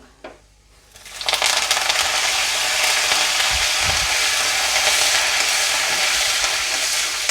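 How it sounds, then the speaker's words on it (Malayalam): Curry leaves dropped into hot oil burst into a loud, steady sizzle that starts after a second of quiet and holds dense and close for the rest, with no talking. "ഇനി ഇതിലേക്ക് കറിവേപ്പില ഇട്ട് കൊടുക്കാം."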